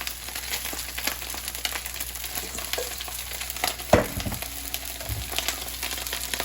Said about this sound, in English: As you can hear, it's coming back. It's sizzling again.